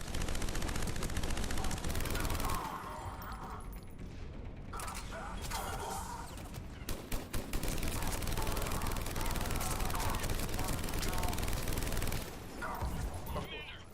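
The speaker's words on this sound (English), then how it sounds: "We're getting a lot of mortar fire." Battle in the video game Mass Effect, with heavy gunfire and mortar fire as loud continuous rattling bursts, booms and mechanical clatter. A voice speaks over the din.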